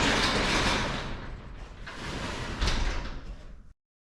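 A garage door on a ranch building being pushed by hand as it rolls along its track, a steady loud rumbling slide lasting several seconds with a brief surge near the end before stopping abruptly.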